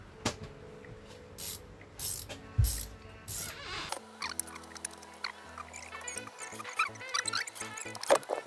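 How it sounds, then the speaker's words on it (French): A 13 mm ratchet wrench works on the front suspension of a Jaguar X-Type 3.0L, rapid close clicking in uneven bursts, with metallic scraping and rattling between strokes. "Rebelote avec notre clé de 13 à cliquer."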